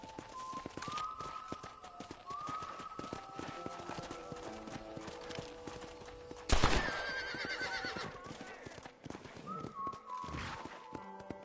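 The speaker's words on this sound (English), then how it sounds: "let's see if you can still ride a horse" A horse neighs twice amid a steady clip-clop of hooves, with a loud thump midway and hoofbeats continuing, in the video game Red Dead Redemption.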